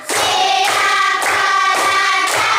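Primary school class clapping together in a patterned rhythm, sharp sustained bursts of many hands repeated in three or four even groups, loud and close.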